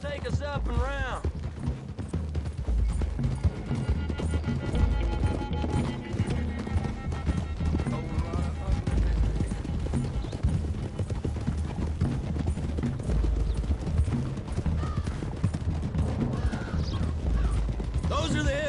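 Horses galloping with steady clip-clop hoofbeats in Red Dead Redemption 2, a continuous rhythmic pounding of several horses at close range under game music and ambience.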